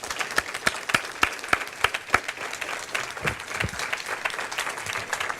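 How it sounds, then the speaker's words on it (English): A lecture audience applauds in honour of Richard Cash at the close of an evening talk, a moderately loud, steady patter of many hands clapping with sharp individual claps standing out throughout. "So a little round of applause for Richard."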